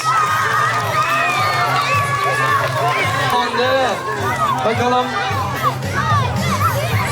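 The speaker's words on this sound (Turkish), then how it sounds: "Kocaman bir alkış" A lively outdoor crowd at a street festival cheers and shouts for a winning group, children's excited voices and whoops swelling continuously with talking mixed in.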